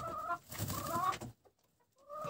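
A hen clucks in a few short, throaty bursts, with a brief quiet gap before the clucking picks up again close by.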